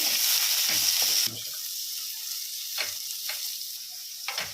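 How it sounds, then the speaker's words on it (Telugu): Onions, beans, carrot pieces and green peas fry in a pan with a loud, steady sizzle that drops to a quieter hiss after a moment, broken by occasional stirring scrapes close by. "ఆనియన్స్, బీన్స్, క్యారెట్ ముక్కలు, గ్రీన్ బఠానీ మంచిగా వేయించుకోవాలండి."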